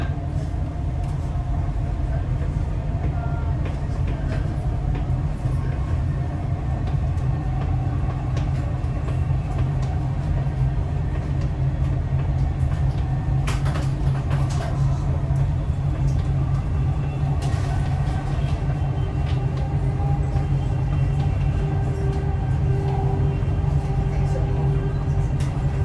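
Steady low rumble and rolling hum of a Dubai Metro train running on the line to Expo 2020, heard loud from inside the carriage, with faint squeals and a recorded announcement voice over it.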